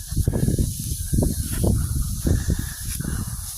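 Dogs pant hard after a walk along a creek, the breathy puffing coming in quick, close, loud bursts over a steady outdoor hiss.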